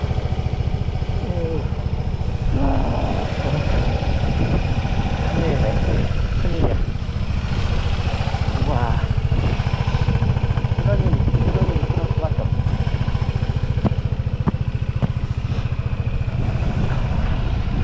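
A motorcycle engine idles close by on a muddy mountain track with a steady, loud putter that runs the whole time, and someone talks over it throughout.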